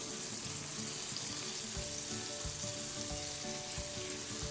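Steady crackling sizzle of shrimp frying in hot oil in a pan, continuous and close, with no voices.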